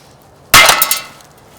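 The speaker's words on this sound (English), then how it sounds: "So here is the 8-pound sledgehammer." An 8-pound sledgehammer slams onto a tungsten arrow point resting on a metal plate, a single loud, sharp metallic crack followed by a short ringing clatter that fades within about a second.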